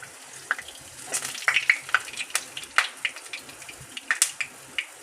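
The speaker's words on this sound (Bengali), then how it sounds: "এইভাবে মালপোয়া আমি ছাঁকা তেলে ভাজছি না" Palm-fruit malpua fritters fry in oil, a steady soft sizzle broken by frequent sharp crackles and pops, fairly close and with no talk.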